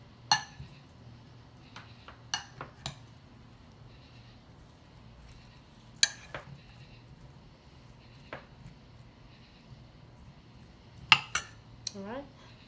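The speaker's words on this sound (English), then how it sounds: "let's go ahead and mix them up first before we add the mayo" Russian salad ingredients are tossed together in a bowl before mayonnaise goes in. Sparse, quiet clinks and taps of a utensil against the bowl come at irregular intervals over a soft background.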